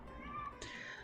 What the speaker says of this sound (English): Excuse that cat